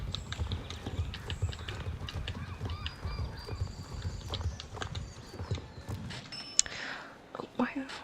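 Horse hooves clip-clop steadily in the Star Stable Online video game, a continuous rhythmic patter of footfalls heard close over soft game ambience and faint background sounds.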